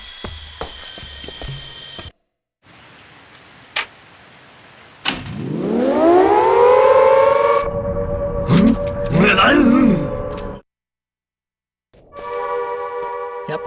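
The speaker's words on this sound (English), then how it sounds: "Like any siren, it's basically a car alarm." A siren in the video game Siren: Blood Curse winds up from low to high and holds a loud, steady wail, then cuts off. Short electronic tones and clicks come before and after.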